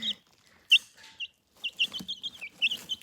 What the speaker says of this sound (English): Oh, the chicken just pecked the screen.